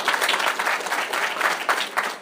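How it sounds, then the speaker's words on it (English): Audience applause at a genealogy talk on building family trees with SNPs and STRs, a steady wash of many hands clapping together, filling the room evenly without a break. "So, let's have a round of applause for that."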